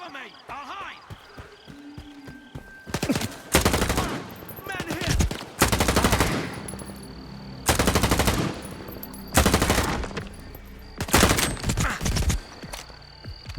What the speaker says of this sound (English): So I'm going to use the reticle and go for headshots, and so let's go for it here.